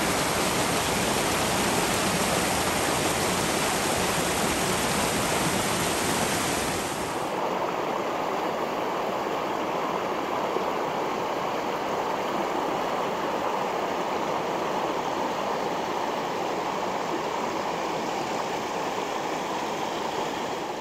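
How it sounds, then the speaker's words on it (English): Rushing creek water flowing toward Hetch Hetchy Reservoir in Yosemite, a dense, steady roar with a brighter, louder surge in the first seven seconds before settling into a softer continuous flow, no voices. "a lot of different creeks and streams of water, all flowing into Hetch Hetchy Reservoir"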